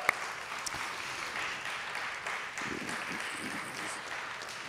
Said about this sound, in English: Let's give them a rousing applause, right?